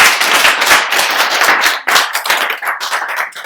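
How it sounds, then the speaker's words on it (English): A crowd claps loudly for contestants at the grand finale of a muscle-gain competition, a dense burst of many hands that runs continuously, thins slightly partway through, then picks up again. "Can we clap for them?"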